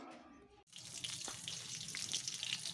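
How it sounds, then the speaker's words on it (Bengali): Eggplant (brinjal) slices frying in a pan: a steady, close hiss of sizzling oil that starts abruptly and carries on evenly, with no one talking. "বেগুন ভাজছি"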